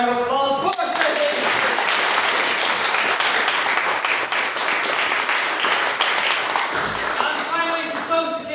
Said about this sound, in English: can we please get another round of applause for Stacey?